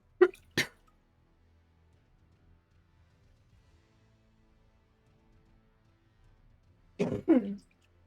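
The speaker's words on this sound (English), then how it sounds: "I'm gonna apologize for the excess coughing." A person coughs in two short bursts, then after a long quiet stretch coughs twice more, harshly and close to the microphone.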